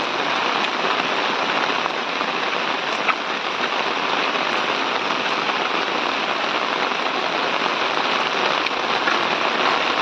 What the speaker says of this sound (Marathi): पुन्हा पाऊस चालू झाला आहे आणि तोही जोरात